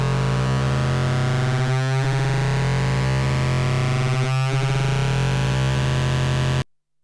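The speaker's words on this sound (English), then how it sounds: "envelope 1 is now modulating the cross mod" Analog polysynth (Super 6) patch with envelope 1 modulating cross modulation: a sustained, distorted buzzing drone with a strong low tone, swelling in two sweeping bursts before cutting off abruptly near the end.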